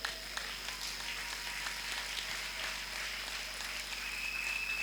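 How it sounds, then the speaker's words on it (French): A church congregation acclaiming the Lord at a Sunday service, a sustained crowd of clapping and cheering voices heard at a moderate distance without a single clear speaker. "On acclame le Seigneur."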